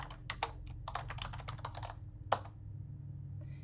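A quick burst of keystrokes on a computer keyboard, typing a field name into a search box of list view software, then a single louder key tap and a short pause, with no talking.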